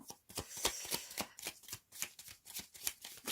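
Tarot cards are shuffled for a reading, a close rapid series of crisp riffling slaps and flutters in an uneven rhythm, with no talking.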